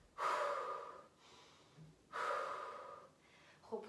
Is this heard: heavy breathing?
yes